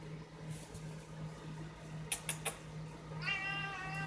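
A cat gives a brief meow, with a few quick, sharp clicks in the middle, near and fairly quiet over a low steady hum.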